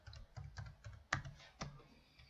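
Several quiet clicks of computer keys, with two sharper, louder strikes standing out near the middle of the short burst, while a command is typed for installing a web styling library.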